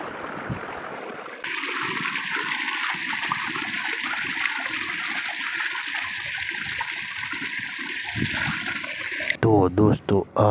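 Water gushes steadily into bottles at a farm, a continuous rushing flow lasting several seconds before it stops and a voice speaks briefly at the end.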